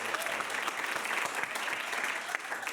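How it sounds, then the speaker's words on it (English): Audience applause at an improv comedy show greets three performers heading into a scoring round, a steady dense clapping from a moderately distant crowd that holds evenly throughout. "Give them a round of applause."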